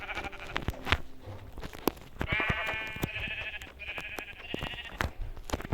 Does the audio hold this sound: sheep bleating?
yes